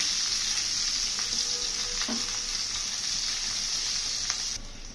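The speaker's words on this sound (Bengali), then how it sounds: "পেঁয়াজটা আমি একটু হালকা করে একটু ভেজে নিব।" Onions frying in oil in a pan, a steady close sizzle throughout with a light stir or scrape near the middle, and no voice over it.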